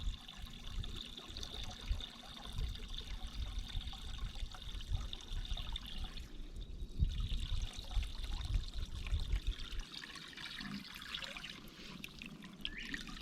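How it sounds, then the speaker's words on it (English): Water trickling and pouring steadily through a filter sock into the other side of a homemade bait tank, a continuous close splashing flow with a brief quieter dip midway. "it's going to start pouring into the other side, and it's going right through that filter sock"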